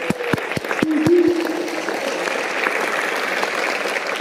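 Concert crowd at a Brazilian fife band performance applauding a musician: a handful of distinct, evenly spaced claps open, then dense steady applause from the audience fills the rest, with a brief voice early on.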